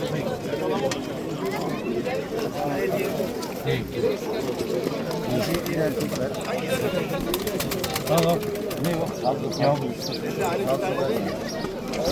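Soft, rolling tumbler pigeon coos repeat throughout at a bird market, mixed with faint bird chatter and a steady background murmur.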